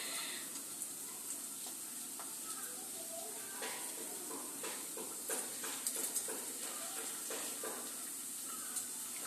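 Banana flower fritters fry in moderately hot oil, giving a soft continuous sizzle with light stirring clicks and scrapes throughout, fairly quiet and close.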